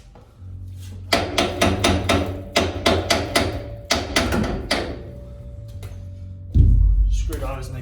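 A burst of sharp metallic hammer strikes on Nissan Skyline coilovers in quick succession, several volleys of repeated bangs, with the car's engine rumbling steadily underneath.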